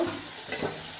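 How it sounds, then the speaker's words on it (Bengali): Coriander chicken frying in a pan is stirred briefly, with a short scrape and soft sizzle around the middle of a quiet second, no voices. "মাঝে মাঝে ঢাকা খুলে একটু নেড়ে চেড়ে দেবো"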